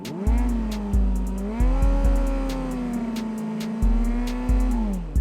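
A Honda CBR600RR sport bike's engine is revved hard and held on the throttle, a loud close buzzing drone with several sharp blips where the revs jump and fall.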